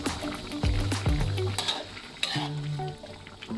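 Eggplant and pounded dried shrimp sizzle in a pan while a utensil stirs and scrapes, with several sharp clanks against the metal over a steady frying hiss.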